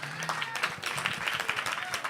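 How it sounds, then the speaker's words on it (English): An audience gives another round of applause for performers at a community monologue show, a dense burst of clapping from a crowd at moderate distance, continuous throughout with no voices over it. "So give Butter and Marquez another round of applause."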